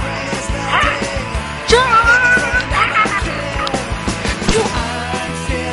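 A dog barks and yips a few times, close by, with whining tones between the barks over a busy background.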